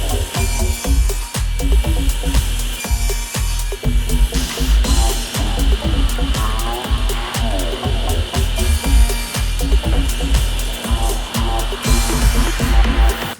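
A power tool cuts a 1/4 inch groove along a fence in exotic wood or poplar, making multiple passes with a loud, steady whirring and grinding and a regularly pulsing rhythm, close up and continuous, without talk.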